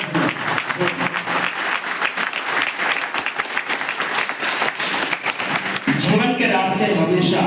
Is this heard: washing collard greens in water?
no